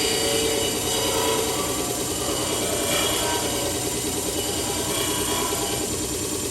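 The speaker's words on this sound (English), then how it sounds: "We're going to take this edge to the belt grinder." An edge being sanded on a belt grinder gives a continuous, loud abrasive whir and rasp that stays fairly even as the piece moves back and forth against the belt, with no talking.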